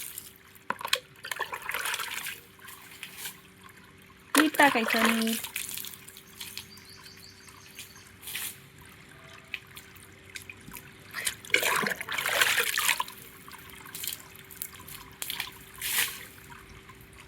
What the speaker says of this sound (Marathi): झाडांना पाणी पळशीने टाकायला पाहिजे